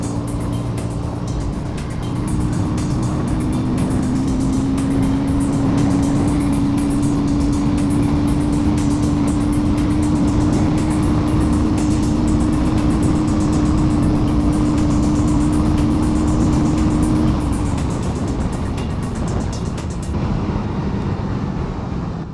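A KTM Duke 160 motorcycle engine on the move, a loud continuous drone whose pitch climbs slightly and then holds steady under heavy wind rush, easing off near the end.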